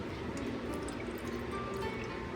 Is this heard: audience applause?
no